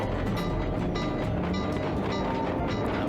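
A train rumbles past in the video game Sly 2: Band of Thieves, a dense, continuous roar with faint rhythmic clacking pulses throughout and no voices.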